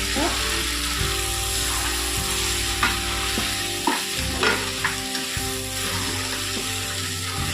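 Eggplant curry, salted, frying and being stirred in a pan, with a constant close sizzle and scattered scraping strokes of the spoon against the pan.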